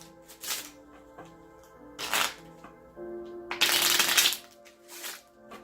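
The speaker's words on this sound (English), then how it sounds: "Okay, shuffling" A tarot deck being shuffled by hand in several quick riffling bursts, close and crisp, with quiet pauses between them and soft background tones underneath.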